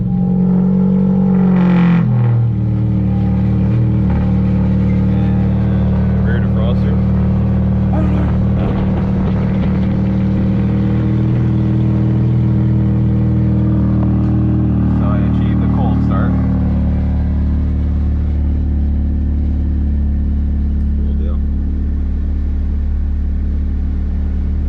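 A straight-piped ninth-generation car engine idles with the AC on, a steady low rumble close by after a brief startup blip, continuing evenly for over twenty seconds.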